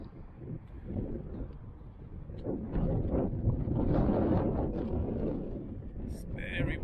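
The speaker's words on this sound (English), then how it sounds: "It's very windy up here." Strong wind buffets the microphone on a mountain top at La Rumorosa, a steady loud roar with gusts building through the middle, a voice speaking briefly under it.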